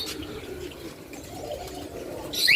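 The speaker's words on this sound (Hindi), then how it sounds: "ये सब कबूतर हैं दोस्तों" Pigeons coo softly in a bird enclosure, low throaty calls repeating under faint background noise, with a brief brighter chirp near the end.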